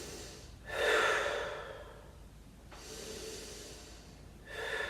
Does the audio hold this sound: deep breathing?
yes